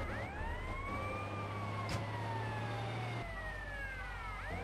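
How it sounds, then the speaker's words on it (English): A fire truck siren in GTA Vice City Stories on PSP wails in long, slow rising and falling sweeps over a low engine hum, fairly distant and steady, with no speech. "I got the sirens on."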